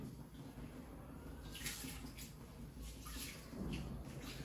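Rice-washing water is poured into a bucket, a quiet, steady trickle and splash with a few brighter splashy bursts against a soft background.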